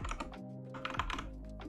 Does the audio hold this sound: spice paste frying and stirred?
no